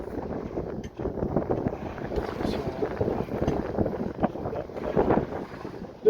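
A sailboat heading into the wind, with steady wind buffeting against the microphone and rushing water against the hull, loud and continuous throughout.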